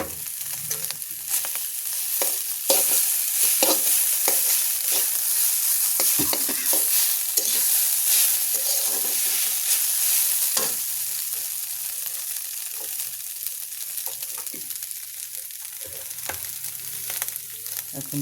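Mixed vegetables for chowmein are stir-fried in a hot pan, a constant close sizzle broken by repeated scraping and tossing of the spatula, with no talk.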